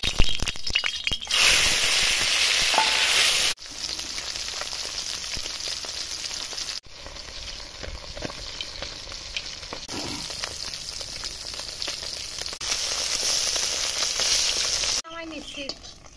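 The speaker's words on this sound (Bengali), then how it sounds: "তেল দিয়ে মাছগুলো ভাজিয়ে নেব।" Small puti fish fry in hot oil, a steady loud sizzle that runs throughout with brief breaks and occasional clinks of a utensil.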